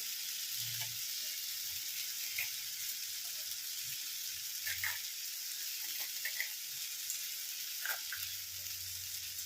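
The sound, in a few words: frying potato and cauliflower in a pan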